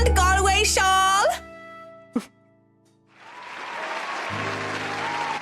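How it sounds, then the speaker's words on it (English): Pub patrons break into cheers and applause after a song at a hen celebration, a sustained wash of clapping and crowd noise swelling in after a woman's singing and a short pause. "one can excuse my smug grin as cheers and applause rise among the pub's patrons"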